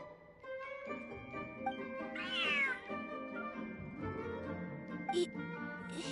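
A cat in a video game meows several times, with clear tonal calls rising and falling over soft game music and chimes, one louder drawn-out meow in the middle.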